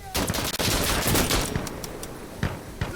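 Rapid gunfire bursts in the video game Insurgency Sandstorm, a dense fusillade of overlapping shots with sharp cracks standing out near the end.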